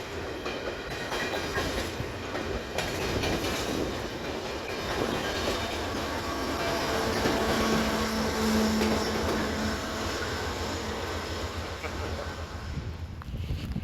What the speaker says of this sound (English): it's kind of weird seeing the train come off from that end